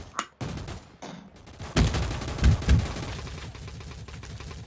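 Roblox gunfight with sniper and pistol fire: a couple of brief electronic blips give way to a burst of loud, close shots with booming low thuds. A rumbling tail lingers afterward.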